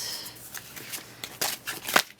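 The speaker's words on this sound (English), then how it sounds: "Asked me to shuffle the last set of cards." Tarot cards being shuffled by hand, soft riffling and flicking in short quick bursts, close and quiet with no other sound.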